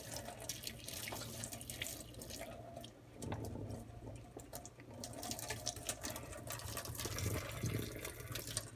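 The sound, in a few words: pouring cooking liquid out of a pot of macaroni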